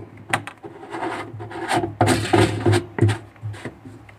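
A kitchen sink drain fitting being screwed onto its thread by hand, giving close, repeated rubbing and rasping scrapes in uneven bursts as it turns.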